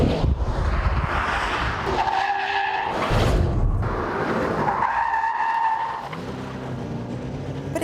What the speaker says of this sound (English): You can also turn the traction control system fully off for some sliding action